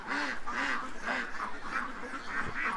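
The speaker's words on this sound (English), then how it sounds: "Oh, the little ducks around the gate here, they figured it out." Several ducks gathered around a farm gate quack repeatedly in quick bursts, close and loud, with a faint thump near the end.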